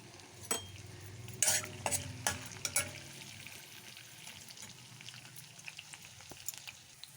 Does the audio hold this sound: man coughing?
no